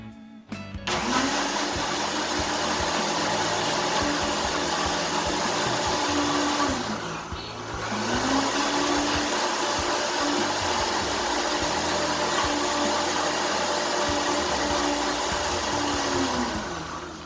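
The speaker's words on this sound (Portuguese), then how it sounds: "E aí a gente põe para bater." A kitchen blender purees beetroot with beet cooking water for a beet and coconut pudding, its motor whining steadily and loudly with a brief drop in pitch partway through before it runs on.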